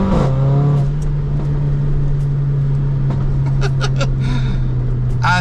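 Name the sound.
Mercedes A45 AMG stage 3 hybrid turbo car accelerating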